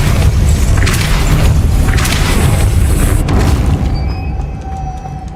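The Depulso spell in Hogwarts Legacy fires as a loud, booming magical blast with rumbling impacts, then the blast fades into quieter ambient tones and a thin sustained hum.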